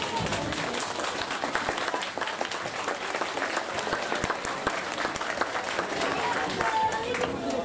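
Sustained audience applause at a school Christmas event, many hands clapping briskly and evenly with a lively crowd feel, voices faintly underneath.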